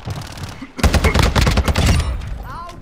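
Rapid bursts of automatic gunfire in the shooter game Warzone rattle loudly and continuously for about a second and a half, followed by a short tail of game effects.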